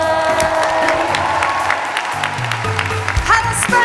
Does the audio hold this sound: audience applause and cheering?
yes